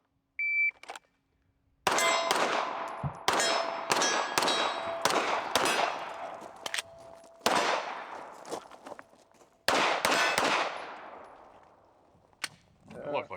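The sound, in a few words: Ruger Mk IV 22/45 shots hitting steel targets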